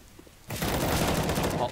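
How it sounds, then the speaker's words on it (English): A flashbang grenade goes off in CS:GO, a sudden loud blast that sets off a dense, ringing burst of noise lasting over a second. "Deploying flashbang."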